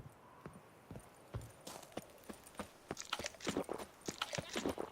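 Roach, the horse in The Witcher 3 video game, clip-clops with hoof falls and snorting chewing sounds, irregular near steps growing louder and busier toward the end.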